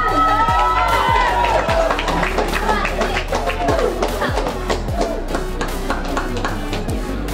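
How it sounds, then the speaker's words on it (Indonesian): Crowd clapping and cheering for a student council candidate at a school debate, with rapid claps, shouts and children's voices over a steady room hum and a sustained tone underneath. "Pada calon nomor urut 1, berikan tepuk tangan."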